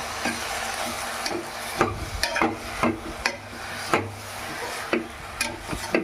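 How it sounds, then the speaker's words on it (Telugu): Gongura leaves frying in ghee in a pan and being stirred, with irregular scraping strokes of the spoon over a steady, close sizzle; no voices. "గోంగూర పెట్టుకున్నాము, బాగా ఫ్రై చేసుకున్నాం ఉడికేటట్టుగా."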